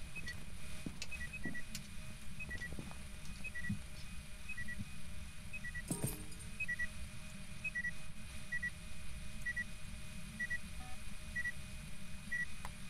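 An in-game device in Phasmophobia gives faint, evenly spaced electronic beeps that repeat steadily over a low background hum.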